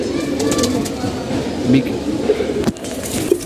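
Racing pigeons coo softly at a home loft amid a busy murmur of background noise, with a few sharper clicks and knocks near the end.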